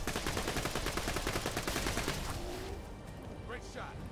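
Rapid automatic gunfire from Borderlands 2 in the Tiny Tina's Assault on Dragon Keep fantasy setting, a steady fast burst of loud shots for about two and a half seconds that then stops, leaving quieter game ambience and a brief rising tone.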